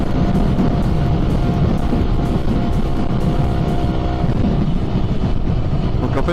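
A 2022 Yamaha YZF R125 motorcycle with a Blackwidow exhaust riding at speed, lane-splitting through traffic, a loud, continuous engine drone mixed with heavy wind rush throughout, no talk.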